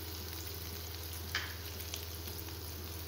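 Potatoes fry in hot oil with a faint, steady sizzle over a low hum, with one brief clink partway through and no voices.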